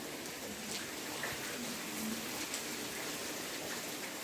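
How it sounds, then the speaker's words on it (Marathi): Heavy monsoon rain pours steadily in a Konkan village in May, a dense continuous hiss drumming on surfaces close by, with no voices over it. "चला पाऊस काय कमी होता नावच घेत नाही।"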